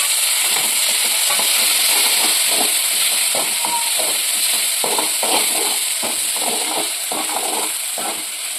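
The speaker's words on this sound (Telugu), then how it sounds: "టమాటాలు కట్ చేసిన టమాటాలు అయితే అందులో వేసి బాగా మిక్స్ చేస్తుంది" Chopped tomatoes stirred in a hot pan as mushroom curry is cooked, giving a steady close sizzle and hiss with repeated scraping, stirring strokes throughout, no talk.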